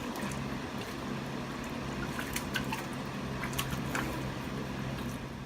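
Fresh water running and splashing into a steer's water trough, a continuous close trickle with scattered drips and splashes.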